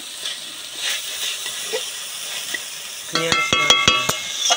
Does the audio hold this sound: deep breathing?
no